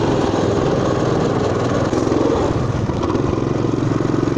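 Motoland RT200 pocket mini ATV engine running hard through mud, a loud, steady buzzing drone with constant rattle and no break across the clip.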